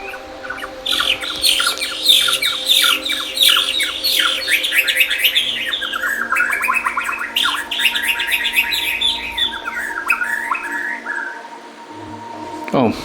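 Tropical bird on Maui giving a run of bright chirps, whistles and squawky calls, close and fairly loud, repeated in quick bursts over a steady low hum.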